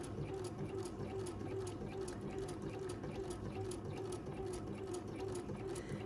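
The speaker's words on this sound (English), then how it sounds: "I'm not going to stitch on the ends, just on the lines" A domestic sewing machine stitches along drawn lines on a bag project, humming in a steady, continuous run throughout at moderate closeness with no pauses.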